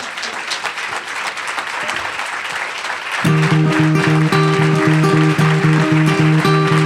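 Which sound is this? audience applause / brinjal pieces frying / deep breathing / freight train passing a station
audience applause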